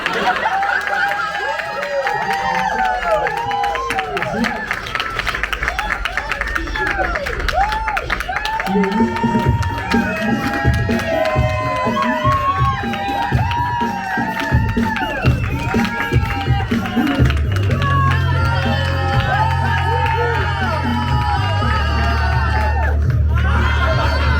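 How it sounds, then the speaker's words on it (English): An audience at an improvised stand-up comedy show claps and cheers for a comedian, the loud crowd noise mixing hollers, shouts and chatter over sustained clapping throughout. "Alright, let's start clapping for Marcel."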